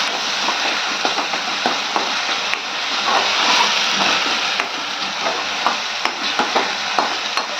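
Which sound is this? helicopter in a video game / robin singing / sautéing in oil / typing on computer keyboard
sautéing in oil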